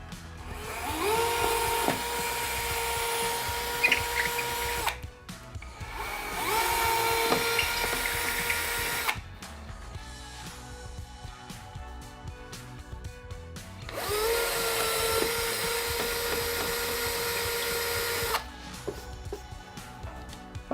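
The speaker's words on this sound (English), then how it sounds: "I've got my cordless drill all charged up and ready to go, and I've got a suitable masonry drill bit attached to this wall that I'm going to drill into" A cordless drill fitted with a masonry bit bores into a plaster wall in three long, loud whining bursts, each several seconds long, separated by brief pauses, with no talking.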